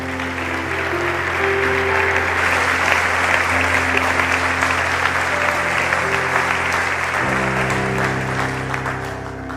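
Church congregation applauding during a sermon, a loud, continuous wash of clapping from many people with a sustained musical tone underneath, steady throughout.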